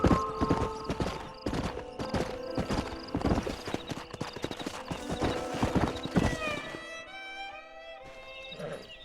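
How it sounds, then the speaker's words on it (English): Horses' hooves in the video game Red Dead Redemption, a steady, loud clip-clop of several animals close by, then a horse whinnies and snorts near the end. "We got some fine horses."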